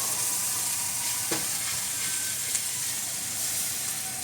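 Italian sausage and onions fry in a pot, giving a steady, even sizzle with a soft crackle and one brief scrape partway through.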